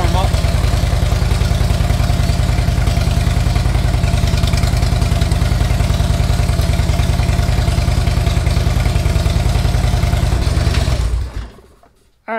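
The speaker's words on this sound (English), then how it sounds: "So we're just gonna have to go ahead and tighten that up a little bit. Let it warm up." Harley-Davidson Street Glide with S&S exhaust idles while warming up after an exhaust install, a loud, close, steady lumpy V-twin throb that cuts off near the end.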